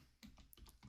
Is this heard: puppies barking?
no